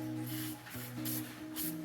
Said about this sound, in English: Give them like a little spray.